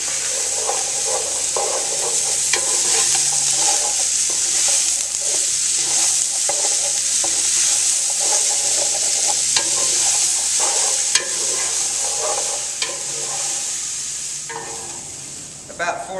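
Onions caramelizing to a dark brown in a pan are stirred continuously, a steady sizzle overlaid with scraping and clicking from the spoon, close and fairly loud for the whole stretch with no talking.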